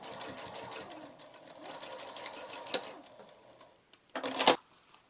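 A sewing machine runs a basting seam a quarter inch in on upcycled fabric panels for a sling, its stitching chatter in rapid bursts with short pauses and a louder final run, close and alone.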